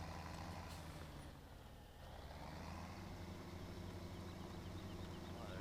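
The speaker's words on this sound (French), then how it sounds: "on va déposer le tracteur ici" A tractor in Farming Simulator 17 idles as it is parked, a steady low engine drone with a brief dip partway before the rumble resumes, heard alone without talk.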